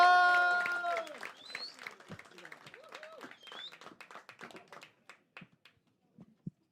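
Comedy club audience at Hot Water Comedy Club clapping and cheering as a comedian takes the stage, a loud burst at first that thins into scattered claps and whoops and fades out within a few seconds.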